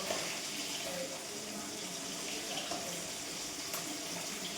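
Tap water runs steadily into a bucket in a bathroom, a continuous close-up rush of pouring water with no voices over it.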